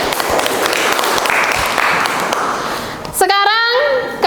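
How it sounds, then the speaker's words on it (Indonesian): A vocational high school class applauding after group discussion answers, a dense wash of clapping for about three seconds before a teacher's voice takes over. "kita tepuk tangan sekali lagi"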